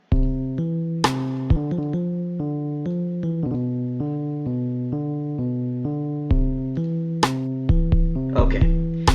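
Chill electronic beat produced in FL Studio plays alone, with a steady bass and chord loop under a dry, crisp snare hitting on a regular backbeat alongside hi-hats.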